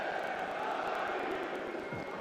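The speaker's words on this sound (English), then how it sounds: "cheering up their fellow supporters to sing as loudly as they can as Rapid pursue an equaliser" Rapid Wien ultras sing and chant in a football stadium during a friendly against AC Milan, a distant dense roar of massed voices sustained throughout.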